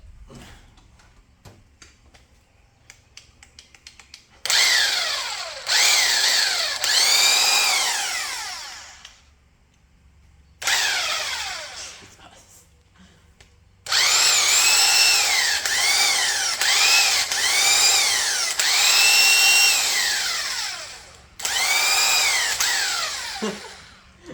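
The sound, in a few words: 3/4 inch impact wrench running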